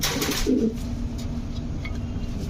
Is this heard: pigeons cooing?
yes